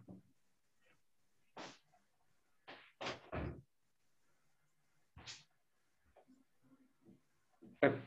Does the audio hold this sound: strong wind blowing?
no